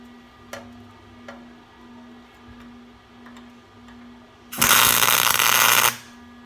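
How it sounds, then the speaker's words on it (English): Tack weld joining two metal pieces set at 90 degrees: one loud, steady crackling buzz of about a second and a half, after a few faint ticks over a low electrical hum. "I'm going to show you guys me weld these two pieces together"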